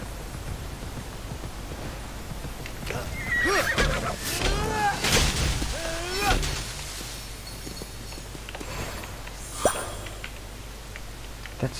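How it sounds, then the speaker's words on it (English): A horse neighs and whinnies in a fantasy action game set in Greek mythology, a loud drawn-out call in the middle, with hoof clip-clop under a steady game soundscape and faint background noise. "Make my way downtown with a horse."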